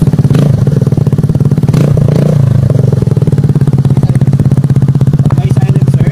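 Suzuki Burgman scooter engine running with an upgraded aftermarket muffler, a loud, close, steady exhaust drone with rapid regular pulsing and a slight rise in revs early on.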